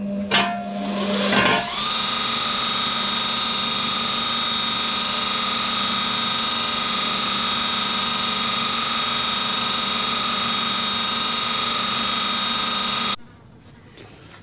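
A linisher belt sander grinds a Fly Wing Bell 206 RC helicopter rotor head part, spinning up quickly into a loud, steady whining drone that holds evenly for about eleven seconds before cutting off.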